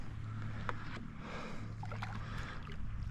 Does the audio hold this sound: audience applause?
no